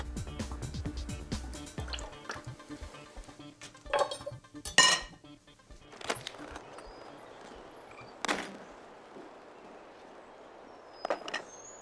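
Olive oil poured onto a grill while cooking veggie burgers and vegetables, heard as a few soft splashing drips and clinks in a quiet kitchen, with short bursts rather than a steady stream.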